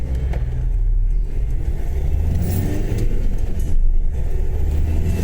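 A car's engine rumbles steadily as it pulls away and accelerates along a road, loud and close from inside the cabin, with a low continuous drone and no voices.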